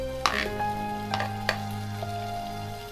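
Chopped green chilies, beans, capsicum and ginger fry in a pan with a soft, low sizzle. A steady background hum runs underneath, broken by a few sharp clicks of stirring against the pan.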